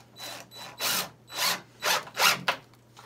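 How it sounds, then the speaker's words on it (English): A power drill bores through a lightweight concrete countertop in a skoolie bus conversion, in five or six short, loud grinding bursts separated by brief pauses, close up and with no talking. "I'm drilling through it"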